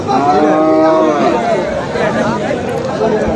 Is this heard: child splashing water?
no